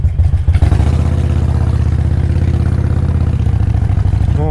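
A Harley-Davidson XL1200NS motorcycle engine rumbles steadily and loudly up close, a low throbbing drone holding an even pace while riding.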